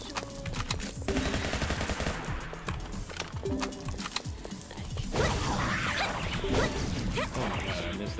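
Rapid dual shotgun blasts in the online game League of Maidens, a dense run of sharp gunfire bursts layered over busy game effects and sounds, loud and continuous throughout with no talk.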